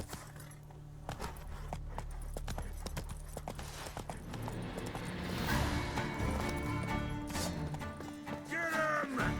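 Roach the horse gallops in The Witcher 3, steady clip-clop hoofbeats running under layered game ambience and music, growing busier and louder toward the end.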